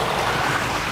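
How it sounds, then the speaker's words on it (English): A small waterfall pours over a little dam on a Cotswolds walk, a dense, steady rushing wash of water, loud and close with no pauses. "It's a lovely little dam there, waterfall."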